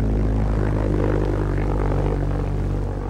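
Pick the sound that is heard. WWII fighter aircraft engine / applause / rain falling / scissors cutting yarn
WWII fighter aircraft engine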